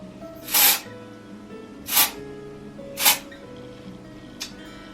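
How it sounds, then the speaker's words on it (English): A hair spray product is sprayed onto the scalp in three sharp, close hissing bursts about a second apart, followed by a fainter fourth puff, with quiet room tone between sprays. "So obviously you don't need to spray it as much as I'm doing"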